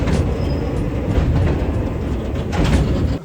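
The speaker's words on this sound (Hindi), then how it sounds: "अभी हमने देखा कि ये मालगाड़ी जो जा रही थी" A freight train of rail wagons rolls past close to the trackside near Obra Dam station, a loud steady rumble with rhythmic wheel clatter throughout and no talking.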